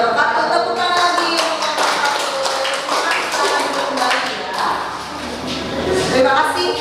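Students clap together in a classroom after a group presentation, a dense, steady patter of many hands filling the room for several seconds with voices mixed in.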